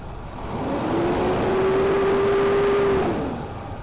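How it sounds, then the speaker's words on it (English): A vehicle engine runs steadily at idle, a sustained hum with a faint steady tone rising in the middle of the stretch, alone and with no talking. "I'm going to let the vehicle run for a little bit here"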